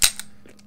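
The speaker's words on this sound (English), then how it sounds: "Hey, maybe we should try shooting without a barrel." A Smith & Wesson 586 CO2 pellet revolver fires with its barrel removed, giving two sharp, close cracks about 0.7 seconds apart. A brief faint hiss falls between them.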